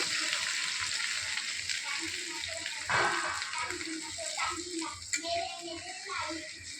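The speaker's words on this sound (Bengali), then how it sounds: "এবার আমি এখানে জল দিয়ে দিলাম পরিমাণ মতো" Water poured into a pan of chicken leg pieces that have been cooked down with spices, a broad hissing splash and sizzle that swells and settles, with a voice faintly in the background.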